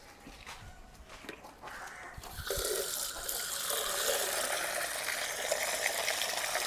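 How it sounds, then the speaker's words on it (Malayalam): Water pours into a cup from a tap, starting as a light trickle and swelling into a steady, moderately loud rush of filling liquid, close by. "ഇതാ ഈ ഒരു ഇതിൻ്റെ അകത്ത് കപ്പിൽ ഇച്ചിരി വെള്ളം എടുക്കാം"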